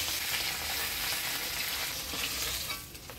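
Taki fish frying in oil in a pan in a Bengali village kitchen, a dense, steady close-up sizzle that carries on alone without talk.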